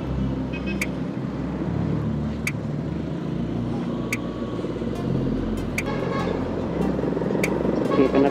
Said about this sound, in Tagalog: Na naman ng traffic. Ito dito lagi traffic.